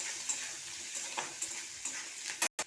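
Chopped onion and grated garlic sizzle softly in a pan while a spatula scrapes and taps at irregular intervals, quiet and close, ending with a brief sharp clatter.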